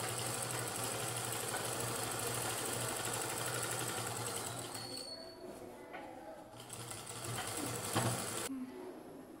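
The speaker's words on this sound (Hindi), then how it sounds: "ऐसे ही इलास्टिक के ऊपर सिलाई लगा लेंगे।" Sewing machine running over elastic on a salwar, a close, steady rapid stitching hum that pauses briefly midway and restarts, with a faint voice in the background.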